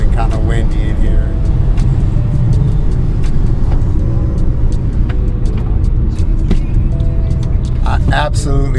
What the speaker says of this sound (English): I know it's sounding kind of windy in here.